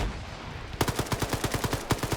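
Rapid automatic gunfire in a PvP shooter game: a steady stream of loud, close shots, about a dozen in quick regular rhythm, with no talking.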